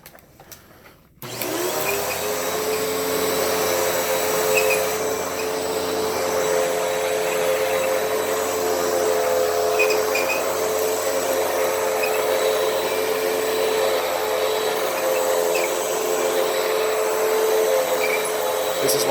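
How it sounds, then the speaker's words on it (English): A Hoover Windtunnel upright vacuum cleaner switches on after a moment of quiet and runs at a steady, loud drone while vacuuming dirt from carpet, with no talking over it. "So I'm going to have this vacuum and begin."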